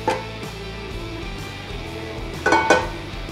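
A frying pan is picked up in a kitchen, giving a clink at the start and two quick metallic knocks near the end against a quiet background.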